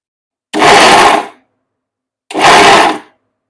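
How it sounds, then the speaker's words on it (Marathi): An electric mixer grinder whirs through ladoo filling in two short, loud bursts of under a second each, separated by a pause of silence. "मिक्सरला फिरवते वेळेला आपण 2 वेळाच हे फिरवून घ्यायचं आहे"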